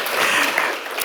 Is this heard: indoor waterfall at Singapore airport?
no